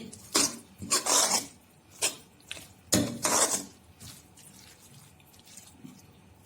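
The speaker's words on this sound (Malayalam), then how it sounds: "തിളച്ച വെള്ളം ഒഴിച്ച് ഇളക്കി" Hot water poured into a pot of instant mango pickle and stirred with a spoon: bursts of splashing and metallic scraping against the vessel, close and clear, with quiet gaps between strokes.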